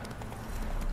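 Horse hooves clip-clop in the video game The Witcher 3, a quick steady run of close hoofbeats over a low rumbling game background.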